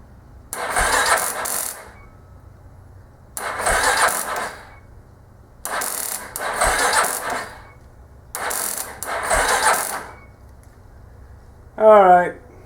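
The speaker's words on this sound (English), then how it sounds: "Well, we're going to try a start here." Yamaha Kodiak ATV engine cranking on a weak battery: four sluggish, grinding starter bursts of roughly a second and a half each, separated by pauses, close and fairly loud, ending with a brief higher whirring chirp.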